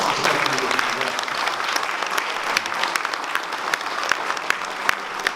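At an economics department fundraising evening, a crowd gives a department dean sustained, even applause with scattered sharper claps and faint voices mixed in.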